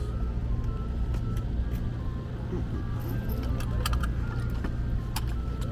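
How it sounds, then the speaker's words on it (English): Heavy road traffic with passing trucks rumbles continuously nearby at night in Washington, with low engine drone and scattered metallic clinks and rattles on top. "Don't mind those noisy trucks."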